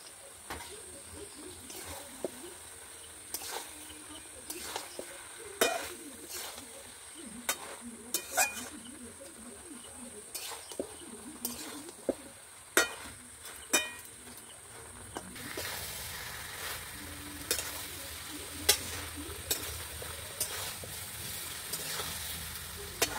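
Cumin paste and slit green chillies fry in a pan for a pumpkin and Malabar spinach ghonto, a steady sizzle and hiss with repeated knocks of a spoon stirring, growing louder and more intense toward the end.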